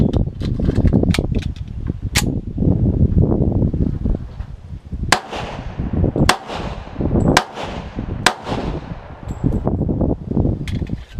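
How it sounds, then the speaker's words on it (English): Pistol shots from a Ballester Molina and a Colt fired rapidly at a target, several sharp cracks spaced a second or so apart amid louder rumbling, handling noise and wind. "we're gonna do this 2 shots to the head, 2 shots to the chest as quickly as we can"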